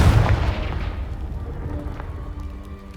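In Hogwarts Legacy, a Confringo spell blasts a pile of debris at the High Keep, producing a loud, booming explosion at the start that rumbles and fades away over a few seconds.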